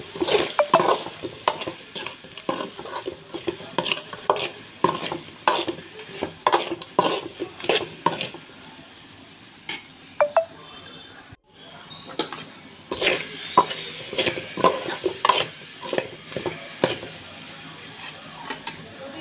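A spoon scrapes and clacks against a pan while lemon rice is stirred, making close, repeated rhythmic strokes with short pauses between bursts.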